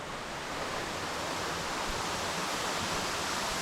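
A waterfall and its stream on Koh Phangan, Thailand, rushing in a steady, dense roar of falling water that fills the whole stretch without pause, with no voices.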